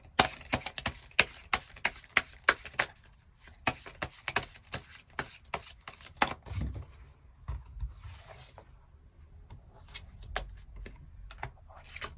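Tarot cards being shuffled and drawn during a reading, a quick run of crisp close tapping and flicking that thins out into scattered soft handling sounds, with no voices.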